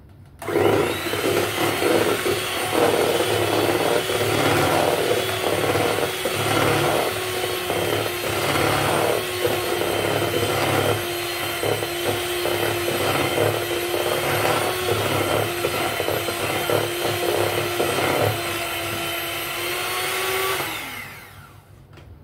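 An electric hand beater whirs loudly and steadily through ragi millet brownie batter, its motor droning up close with rhythmic scraping against the bowl before switching off near the end.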